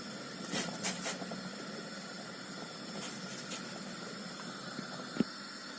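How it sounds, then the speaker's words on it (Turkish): Water boils in a pot for köfte meatballs, giving a steady close hiss and bubbling with a few soft clinks and a sharp knock near the end. "Suyum kaynamaya başladı."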